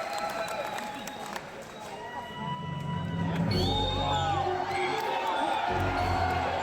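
A crowd at a live concert in LA cheers and shouts with excitement, the noise swelling into loud whoops midway, with people talking over it.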